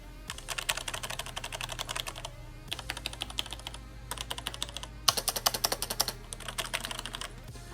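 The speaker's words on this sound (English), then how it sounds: "It has Romer G tactile switches. This is what the switches sound like." Fast typing on a Logitech G Pro tenkeyless keyboard with Romer-G tactile switches, dense runs of close, crisp keystrokes in several bursts separated by brief pauses, no talking.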